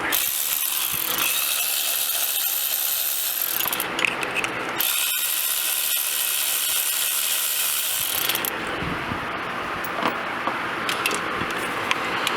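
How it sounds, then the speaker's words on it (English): A ratchet wrench clicks steadily and rapidly up close as it backs out the water pump bolts on a Ford 6.0 engine, pausing briefly partway, with no talking. "Okay, so now we'll take the bolts out for the water pump."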